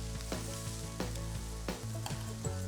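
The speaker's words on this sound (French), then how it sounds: "On marque la viande des deux côtés, on fait bien cuire" Iberian pork fillet sears in a hot pan with a steady close sizzle, broken by several sharp clinks and taps of utensils at irregular intervals, with no voices.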